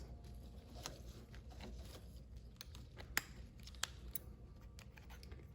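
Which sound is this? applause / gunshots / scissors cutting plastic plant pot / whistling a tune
scissors cutting plastic plant pot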